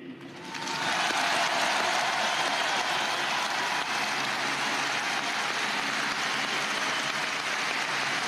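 Sustained, loud crowd applause honoring Johnny Hallyday, a dense wash of clapping that swells within the first second and holds steady to the end, with no speech over it.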